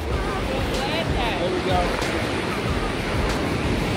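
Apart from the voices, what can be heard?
ocean waves breaking at the beach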